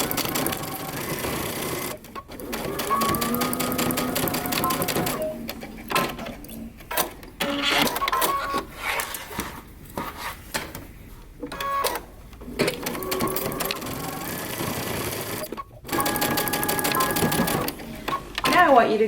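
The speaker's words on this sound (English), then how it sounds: "Now we're going to sew using 5/8 of an inch seam allowance." A sewing machine runs in bursts while stitching a 5/8-inch seam on a moto jacket, its steady mechanical whir stopping and starting several times, with close talk mixed in.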